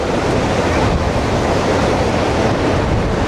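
Sea waves breaking on a beach where horses are ridden, a continuous loud roaring surf with wind buffeting the microphone throughout.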